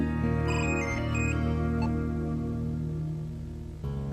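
A telephone rings in a drama scene with a melodic, repeating electronic ringtone that plays over a low sustained musical backing, fairly loud and without any speech.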